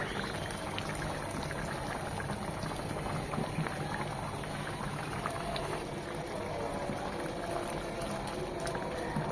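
Horn fish stew simmering uncovered in a pan to thicken its gravy, a steady close bubbling and sizzling hiss that continues evenly throughout.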